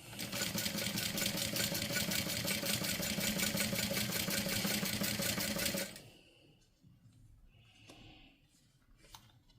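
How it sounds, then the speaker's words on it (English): A sewing machine runs steadily for about six seconds, top stitching an eighth of an inch around a fabric wing, with a rapid, even needle rhythm, then stops and leaves faint rustling of the fabric being handled. "I'm going to top stitch 1/8 of an inch going all the way around this wing."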